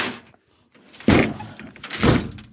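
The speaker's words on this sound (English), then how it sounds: "That door don't like to shut very good when I put it against a guardrail." A damaged 1969 Ford Mustang Mach 1 door, once pushed against a guardrail, is swung shut twice with heavy, close metallic thunks roughly a second apart after a short quiet rustle, no one speaking.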